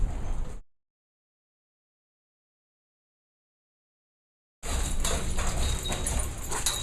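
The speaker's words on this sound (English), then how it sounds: "I'm standing here in the midst of aggressive dogs who are labeled troublemakers" Aggressive dogs at a dog rehabilitation site, with noisy scuffling, movement and dog sounds in two bursts separated by a long stretch of silence.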